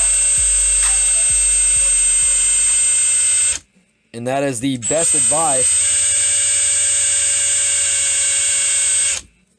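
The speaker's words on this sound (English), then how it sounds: "the hotter this thing gets, the slower your drill needs to run." Electric drill whirring steadily while spinning a 12 gauge slug shell of thin plastic to roll crimp it by hand, a continuous high tone that cuts out briefly as someone speaks, then resumes.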